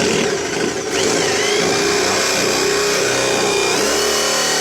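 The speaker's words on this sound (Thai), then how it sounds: "เจาะรูนะครับรูใหญ่ก่อนนะ" A power drill bores a large hole to mount a Lowrance sonar transducer, its motor whirring loudly and continuously at close range for the whole stretch, with the pitch wavering slightly as it cuts.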